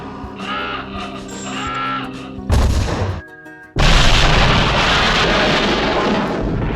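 A specially designed bomb goes off in a single abrupt, loud blast that rolls into a sustained roaring rumble, coming after cawing crows and a short burst of noise, with no voices.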